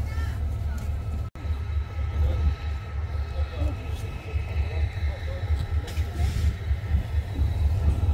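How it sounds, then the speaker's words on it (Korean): The Baekdudaegan tourist train passes in the distance at a mountain station, a low continuous rumble running through the whole stretch with a brief dropout, while people talk quietly over it. "저게 백두대간 열차."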